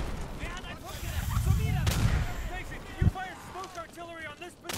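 Gunfire and heavy booms in Day of Infamy sound through a busy battlefield mix, a loud thump landing near the end, while a voice talks over the din.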